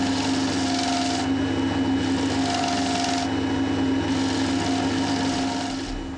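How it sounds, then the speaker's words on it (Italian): A round scraper works the inside of a segmented wooden bowl spinning on a lathe, giving a steady continuous scraping hum over the motor drone, with rhythmic brighter surges as the tool sweeps across the wood. "Un raschio rotondo ci aiuterà a finire l'interno e ci consentirà di sagomare il labbro"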